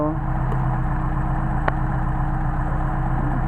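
A Mercedes 190SL engine on Solex carburetors idles steadily, a continuous low, even rumble close to the car, with a faint click partway through.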